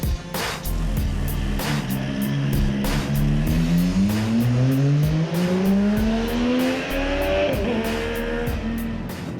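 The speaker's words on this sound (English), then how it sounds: "once you get the revs up and you get this bike singing" MV Agusta Dragster RR motorcycle engine revving hard, its pitch climbing steadily through the gears with a brief dip, loud and close with a sharp, singing tone and no speech.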